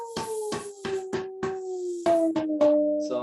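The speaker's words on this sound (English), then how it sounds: "and then you can release the air" Pressurized air hisses out of a plastic bottle tuned with a bicycle pump, heard amid a run of sharp, evenly spaced knocks that carry a sustained pitched ring, the tone stepping slightly partway through.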